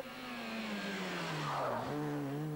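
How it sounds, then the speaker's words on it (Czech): A Honda Civic touring race car with a 1800 cc engine screams past during a race, its high revving note sliding down in pitch, then a quick downshift and renewed acceleration, loud and close with no talking. "Ani na chvilku není možné podceňovat tuto Hondu Civic Jana Vávry"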